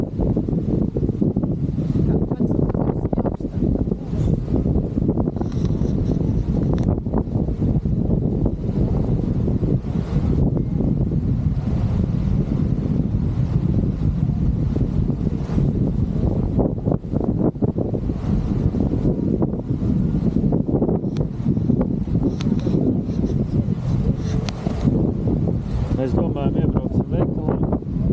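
Steady wind gusting and buffeting the microphone beside Lake Maggiore beneath the mountains, a continuous broad rumble with people talking throughout.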